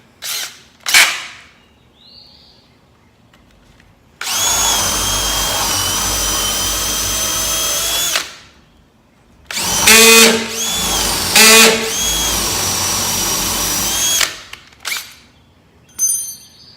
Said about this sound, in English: when I put it in the drill starts spinning